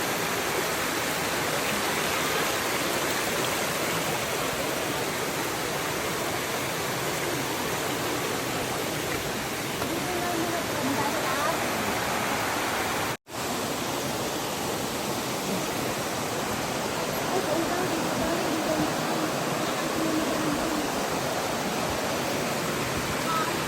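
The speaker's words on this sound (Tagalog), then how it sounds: "Tubig. Malakas na yung tubig yan." Loud, continuous roar of rushing water from a Pearl waterfall near Silvermine cave, Mui Wo, steady and close throughout, with one brief dropout midway.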